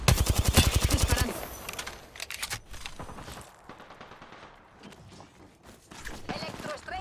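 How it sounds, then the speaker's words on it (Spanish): Rapid machine-gun fire in a video game opens loud and rhythmic, then fades into scattered quieter shots and thuds before another burst near the end, with speech over parts of it. "Disparando."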